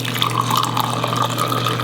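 Brewed Indonesian coffee poured into a cup, a continuous close liquid stream splashing and filling steadily for a couple of seconds, with a faint low hum beneath and no talking.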